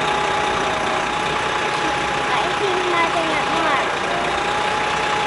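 A Toronto Fire aerial fire truck idles nearby with a steady, loud engine rumble, while voices talk over it now and then.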